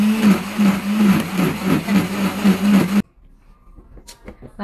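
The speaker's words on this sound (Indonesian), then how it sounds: "Lalu kita blender ya." An electric blender runs loud and close, grinding cut pandan leaves with a little water in a home kitchen, its motor whirring with a pulsing drone for about three seconds before cutting off, leaving faint clatter and handling noises.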